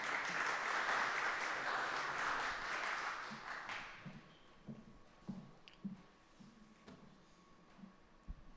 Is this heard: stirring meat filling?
no